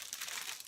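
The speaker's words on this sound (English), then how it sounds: "you know, the plastic that you wrap baskets in." Plastic basket wrap crinkles and crackles continuously at close range, a bright rustling texture with no voices over it.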